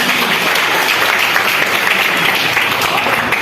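Loud, close, sustained applause from a crowd at a university mathematics department event for Mathematics Day, with many hands clapping in a thick, unbroken wash and no voices rising above it.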